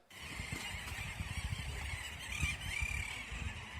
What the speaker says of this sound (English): you have hundreds of thousands of birds calling at the same time